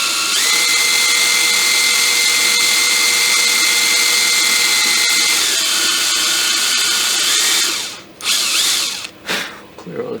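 A drill whines steadily as it bores into the ramrod of a Kibler Colonial flintlock kit, a loud continuous motor tone that cuts off near the end with a few short bursts.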